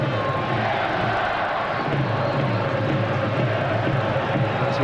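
Dense football stadium crowd noise at a 1997 England v South Africa international friendly, a steady loud roar of cheering and chatter filling the whole span without a break.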